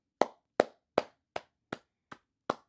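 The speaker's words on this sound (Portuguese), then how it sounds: "Tem que bater palma, cara." Hand clapping, seven sharp, evenly spaced claps, close and dry with nothing else around them.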